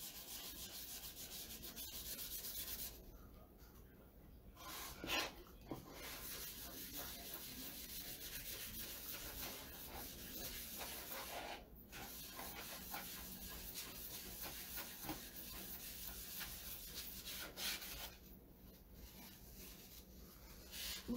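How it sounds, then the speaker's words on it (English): A paper towel rubs surface wax onto a wooden sign frame in steady, close, soft scrubbing strokes that run almost without pause and are interrupted by only a few short gaps. "I just rub it in and rub it off."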